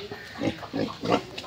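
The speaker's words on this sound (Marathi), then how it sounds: "मित्रांनो हे बघा डुक्कर," A pig on a farm grunts in three or four short, close snorting bursts, evenly spaced and fairly quiet.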